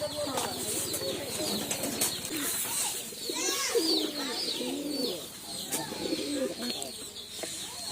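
Pigeons with eggs and chicks in a rural Bangladeshi setting, cooing steadily nearby with occasional wing flutters and chirps, while people talk intermittently in the background.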